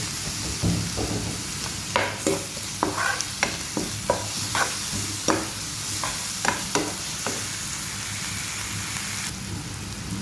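Onions sizzling in a pan as garlic, ginger and taro are stirred in for a breakfast chickpea bhaji: steady frying hiss broken by repeated scraping and stirring knocks from a spatula.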